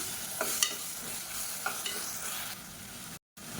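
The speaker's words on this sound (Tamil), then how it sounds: "இதையும் சேர்த்து நல்லா வதக்கிக்கலாம்" Ground garlic, ginger and shallot paste sautés with onion in a pan, a low steady sizzle under a few sharp scraping stirs, quiet, ending in a brief dropout, no talk.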